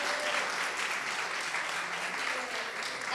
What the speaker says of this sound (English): So another excited round of applause.